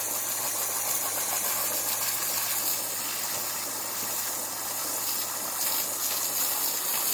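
A pool filter cleaning tool spins and sprays water, making a loud, constant rushing hiss with a low motor hum beneath, steady from start to finish.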